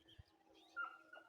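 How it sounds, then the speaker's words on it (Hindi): Birds call faintly in the mountains in the morning, a few soft, brief chirps and coo-like notes over a quiet background. "और चिड़ियाओं की आवाज़"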